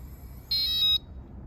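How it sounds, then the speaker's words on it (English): A single electronic beep of about half a second, sharp and close, from a keyless entry lock locking on an RV storage door, against a quiet background. "And I just heard it do the lock."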